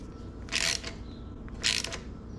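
A ratchet wrench fitted with a 13 mm socket tightens bolts on a Bafang M620 e-bike mid-drive motor, giving two short bursts of bright clicking about a second apart over a quiet workshop background.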